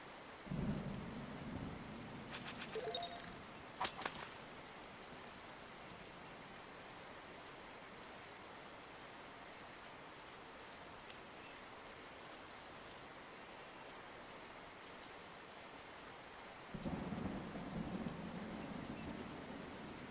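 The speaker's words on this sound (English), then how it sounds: "It's the rain, the canopy, the, like, sounds of birds." Soft, steady rain patters continuously at low volume in a video game forest canopy, with faint low rumbles near the start and toward the end.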